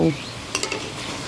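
Chicken pieces are stir-fried in a pan, a soft steady sizzle with a few quick scraping clinks of a spoon against the pan, close and fairly quiet, after a brief voice at the start.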